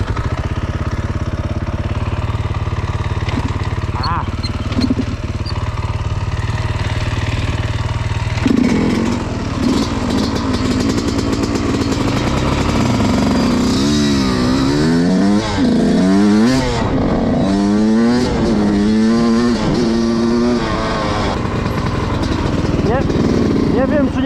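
A Yamaha YZ 125 motorcycle engine, test-ridden after a rebuild, drones loudly throughout, then rises and falls through a series of revving pulls in its second half, with voices talking over it.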